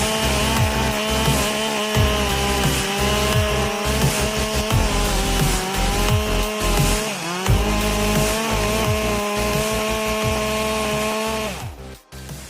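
A Husqvarna 572XP chainsaw runs steadily at high revs while cutting softwood, its loud buzzing drone rising and dipping as the chain bites and frees, with a brief drop near the end.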